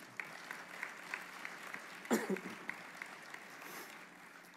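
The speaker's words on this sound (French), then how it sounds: "On l'applaudit encore." An audience at a town New Year's greetings ceremony in Longué-Jumelles claps, fairly faint and scattered, with a short burst of louder clapping near the middle.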